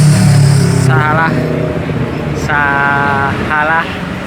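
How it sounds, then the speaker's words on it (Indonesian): A bus pulls in at a roadside stop in Cileunyi, Bandung, with a loud engine rumble and several high, tonal squeals or horn-like blasts, while people talk nearby. "bisnya udah datang guys"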